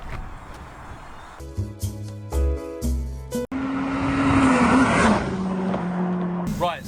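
Car with a K20 engine being driven hard, revs climbing in sharp stepped bursts with gear changes, then a sustained loud rising engine howl with road noise, up close and without speech.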